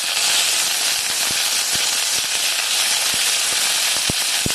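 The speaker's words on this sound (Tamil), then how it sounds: "இஞ்சி தூள் எல்லாத்தையும் போட்டு நல்லா வதக்கிடலாம்" Dried red chillies, green chillies, curry leaves and ginger sauté in hot oil in a pan. A loud, steady sizzle carries on throughout, with scattered small pops and crackles.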